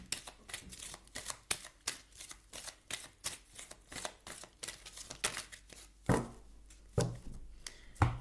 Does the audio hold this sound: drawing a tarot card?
yes